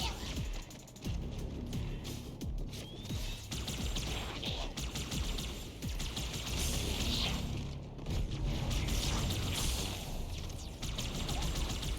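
Needler and plasma rifle fire in Halo, dual-wielded: continuous rapid bursts of energy-weapon shots with mechanical clatter and booms, forming a dense, steady barrage for the whole stretch with a brief lull near the start.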